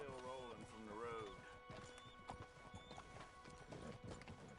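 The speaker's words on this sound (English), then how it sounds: "That's a fine horse you got there." Horse hooves clip-clopping in Red Dead Redemption II, a quick run of hoof clops after a whinny-like call and a voice, fairly quiet overall.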